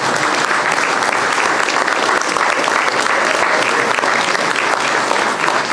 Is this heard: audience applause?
yes